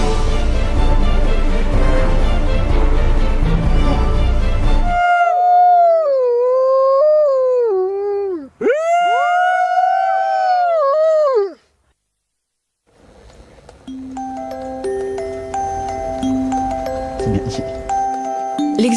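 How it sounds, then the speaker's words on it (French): Wolfdogs howl in long, wavering, sliding tones for several seconds, loud and close, coming after a burst of broadband noise and followed by a stretch of quiet and then steady background sound. "Rien n'est trop beau pour ces chiens loups qui ont besoin de se défouler et d'être stimulés en permanence."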